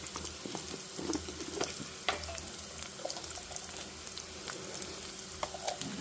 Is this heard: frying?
yes